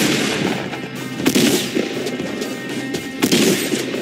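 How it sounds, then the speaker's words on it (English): Gunfire in the Fortnite video game, a rapid dense burst of loud, close shots with sharp cracks recurring over steady game noise. "They're trying to shoot at me."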